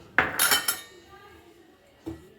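A spoon scraping and clinking against a pan while stirring an atta barfi mixture: a quick cluster of metallic knocks, a quieter pause, then one more clink, close by.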